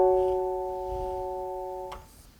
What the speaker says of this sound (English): So we have a piano sound that sounds like this.